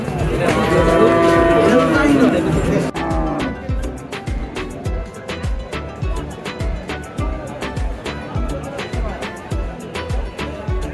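A loud, drawn-out cow moo opens the scene, followed by clattering knocks and general livestock-market bustle.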